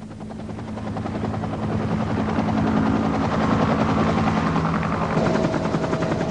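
A helicopter flies over dense, remote jungle, its rotor thudding in a steady rapid beat with a low droning hum that grows louder and stays close throughout.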